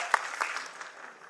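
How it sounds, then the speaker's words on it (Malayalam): Short burst of audience clapping at a Malayalam show just before a singer performs, fairly steady hand claps with a couple of sharper individual claps, fading slightly. "ഒന്നൊന്ന് വലിയൊരു കൈയടി കൊടുത്തു കഴിഞ്ഞാൽ അദ്ദേഹം പാടും."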